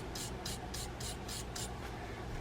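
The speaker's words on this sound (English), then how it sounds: "I'm going to use that wire brush, clean up that dried" A wire brush scrubs dried grease off a pawl part of a 1958 Shakespeare Triumph fishing reel, six quick rhythmic rasping strokes, soft and close over a steady background hiss.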